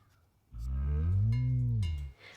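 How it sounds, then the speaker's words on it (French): A cow plant in a life simulation video game lets out a single long, loud moo lasting over a second and a half, alone with no talk. "notre plante vache s'appelle Vachette"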